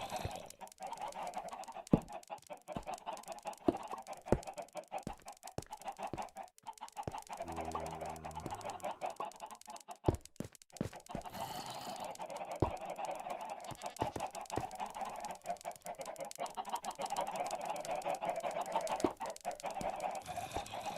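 Chickens in a video game clucking and squawking loudly, a busy run of repeated honking calls and short clucks with sharp clicks scattered throughout, continuing without letup.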